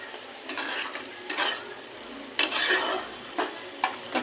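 Spices sizzle gently in a pan while being stirred for begun bhog, with repeated scraping strokes of a utensil against the pan at irregular intervals, close up and with no talking.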